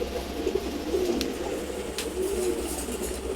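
A male Giribaz pigeon coos softly in low, repeated throaty phrases, close but quiet, with faint background noise.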